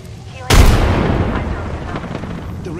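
A single loud, close gunshot or blast from Apex Legends combat, sharp onset followed by a long rumbling decay and lingering noise.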